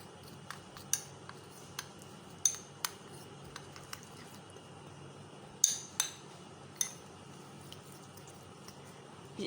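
A spoon mixing almond oil paste in a small bowl gives sharp, sparse clinks and taps against the rim, about a dozen strikes spaced irregularly over a quiet background.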